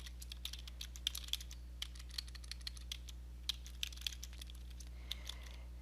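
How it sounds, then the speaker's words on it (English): Keys clatter on a computer keyboard in quick irregular bursts, quiet and close, over a steady low electrical hum, while typing in Revit. "let's do some typing."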